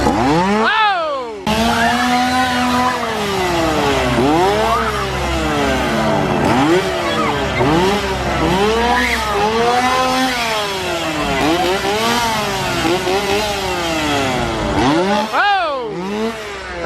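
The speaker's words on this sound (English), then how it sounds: "I hear some chainsaws" Chainsaws revving at Halloween Horror Nights at Universal Orlando, with a loud, close engine whining up and down in repeated sweeping bursts that continue steadily for many seconds over crowd noise.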